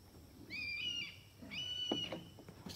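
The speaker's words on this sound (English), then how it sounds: "It's like a hawk. Sounds like a seagull, but it's a hawk." A hawk gives two thin, high, seagull-like cries outdoors, each about half a second long and separated by a short pause. The cries are faint and somewhat distant, with light rustling and clicks between and after them.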